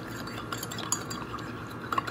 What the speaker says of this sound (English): So now we're gonna stir that all together.